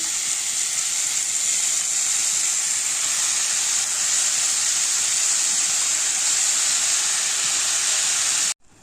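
A loud, unbroken sizzling hiss as sorrel greens are added to a frying tempering in hot oil carries on for several seconds, then cuts off abruptly near the end.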